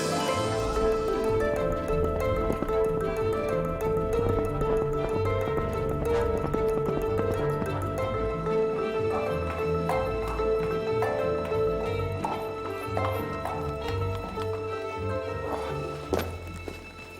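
Horse hooves clip-clop steadily throughout, with a period film score playing over the regular footfalls.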